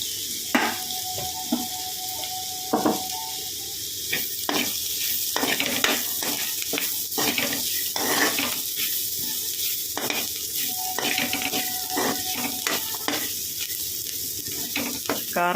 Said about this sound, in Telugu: కారం వేసుకున్న తర్వాత కొంచెం సేపు ఫ్రై అవ్వాలి